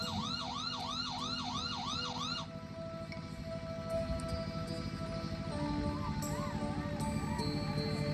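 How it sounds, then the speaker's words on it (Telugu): An ambulance siren wails in rapid repeated rising-and-falling sweeps, then shifts to a slower, steadier pattern, fairly faint and distant throughout with traffic noise underneath. "చూడు అంబులెన్స్ వచ్చినట్టుంది, చూడు"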